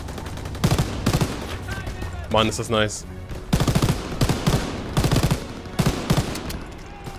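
MG42 machine gun fire in Call of Duty WWII, rapid bursts of shots crackling repeatedly across the clip, mixed with other game sounds while someone talks over the action.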